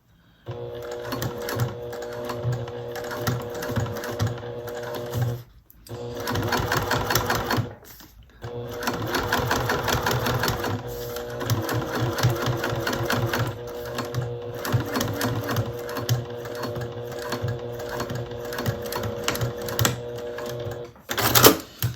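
Sewing machine stitching piping onto a bag, running in long steady bursts of rapid needle chatter with a couple of short pauses between runs, close and loud with no talking.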